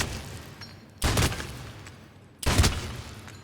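Piranha shotgun from Mass Effect 3 firing two loud, booming blasts about one and a half seconds apart, each with a short rumbling tail, and no voices.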